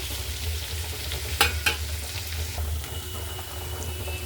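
Sliced onions and two dried red chillies sizzle in a pan as a steady close fry, with a couple of sharp clinks of a spoon stirring and scraping partway through.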